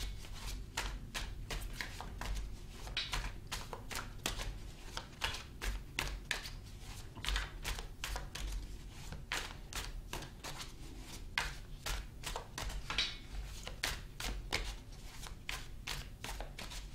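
Tarot cards shuffled by hand for a reading: a steady, close run of crisp riffling snaps and flutters lasting throughout, with no talking.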